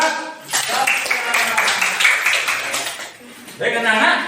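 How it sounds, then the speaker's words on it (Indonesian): Children in a classroom prayer lesson clap together in a few seconds of brisk, close clapping, bracketed by a teacher talking before and after. "ayo tepuk tangan buat"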